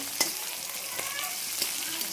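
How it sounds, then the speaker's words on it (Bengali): A steady, fairly loud sizzle of onions frying in mustard oil with bay leaves, with a few faint clicks of a utensil. "মাংসটা কষবো বলে পেঁয়াজ দিয়ে দিয়েছি, তেজপাতা দিয়ে একটু সরষের তেলে করছি।"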